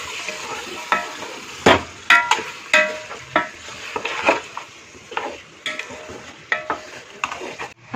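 Dry coriander and cumin seeds roasting in a pan with repeated scraping and stirring strokes, sharp clinks of a utensil against the metal spaced roughly every half second to second, close and loud with no voices.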